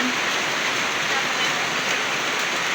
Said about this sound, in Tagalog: At mas lalong lumakas yung ulan, guys.